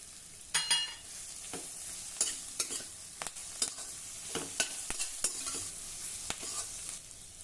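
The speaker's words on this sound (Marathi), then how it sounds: "आठ ते नऊ कढीपत्त्याची पानं घालूया आणि हे पडवळाचे काप घालू" Ridge gourd slices and curry leaves fry in a pan, a soft sizzle broken by irregular scraping knocks of a spatula stirring, close and fairly quiet, with no voices.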